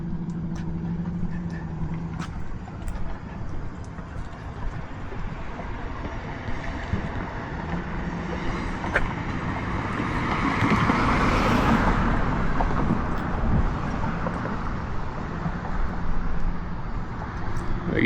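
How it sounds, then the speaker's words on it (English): A loud car on a Dallas street approaches and passes, its roar swelling from a steady background of traffic and wind noise to a peak near the middle before fading slightly, no talking. "all right, I got a loud car coming up."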